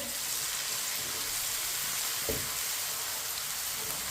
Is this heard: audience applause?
no